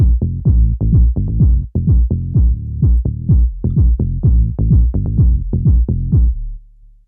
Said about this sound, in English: And then the bass line sounds a bit like this.